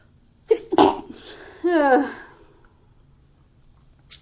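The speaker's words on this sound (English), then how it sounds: "So I'm gonna sneeze. Hang on." A single close, sharp sneeze bursts out after a quick inhale, followed by a short voiced exhale, then quiet with a faint click at the end.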